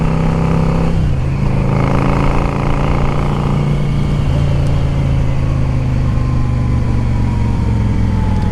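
A 2010 Yamaha V Star 650 motorcycle is ridden on the road, its engine loud and close, rising and falling as the rider works the throttle, then settling into a sustained, slowly easing drone.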